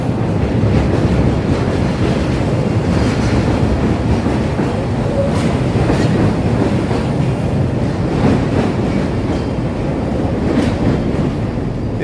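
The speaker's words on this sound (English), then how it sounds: "live and work in an area where trains are just flying overhead?" A steady, loud rumble and roar of a Chicago L elevated train passing close overhead on a bend, with wheel clatter and wind buffeting running throughout.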